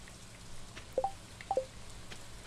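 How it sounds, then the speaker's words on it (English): Rain falling in the farming video game Stardew Valley, a soft steady patter under faint game sounds, with a few brief bright plinks of game effects scattered through. "we don't need to water our crops because it's raining"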